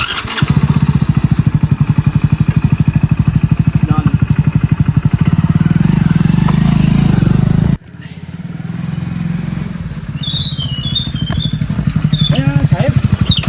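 A motorcycle engine running loud and close with a fast, steady throbbing idle. It cuts out briefly midway, then runs again while people talk over it in a comedy sketch.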